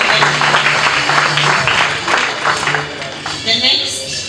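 An audience claps at a graduation ceremony in Nairobi, a broad steady patter of many hands running under a speaker's amplified voice, fairly loud throughout.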